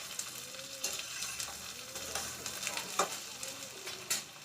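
Potatoes go into a pan of frying mutton kosha, bringing a bright sizzle with repeated stirring scrapes and clatter, close and moderately loud, the hiss rising with each bump and settling between them.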